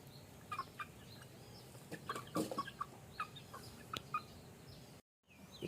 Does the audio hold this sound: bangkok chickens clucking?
yes